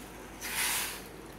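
Water is poured onto half a kilo of chopped tomatoes in a pot, a brief soft hissing splash swelling for about half a second and then fading, with no talk.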